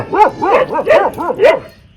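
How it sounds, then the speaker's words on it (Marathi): Four sharp barks from a nearby dog, evenly spaced, loud and alone, then quiet. "कुत्री काय बुकते ते?"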